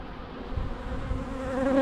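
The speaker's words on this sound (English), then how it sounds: "What's your purpose, wasp?" Wasps buzzing around a beehive while honey supers are returned for the bees to clean, a close, steady insect drone whose pitch wavers and rises toward the end, with no talking.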